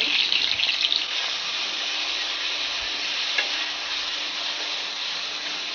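Potato chutney ingredients with curry leaves fry in a pan, a steady close sizzle with a few soft stirring scrapes, slightly louder at the start and then evening out; no voices.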